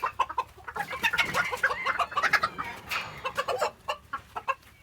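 Pekin bantam chickens cluck and chatter nearby in a backyard coop, a busy overlapping stream of short calls and squawks with no talk.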